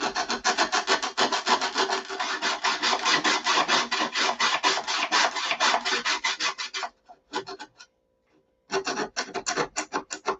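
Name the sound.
hollowing out plywood model airplane cowl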